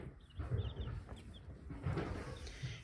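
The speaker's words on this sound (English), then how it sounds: "And we have 81 little chicks." A brood of 81 little chicks chirps faintly, with soft high peeps in small scattered clusters over a quiet low background rumble.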